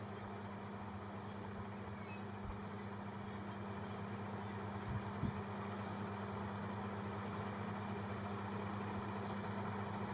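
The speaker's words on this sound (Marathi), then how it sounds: "आणि आता हा दुसरा ट्रॅक्टर लावलेला आहे" A parked tractor engine idles in a steady, even drone that runs without a break throughout, heard at moderate distance with no talk over it.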